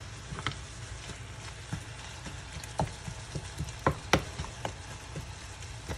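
Ground meat frying in a pan for cheese dip and being broken up with a utensil, a steady soft sizzle with irregular scraping and tapping clicks close by.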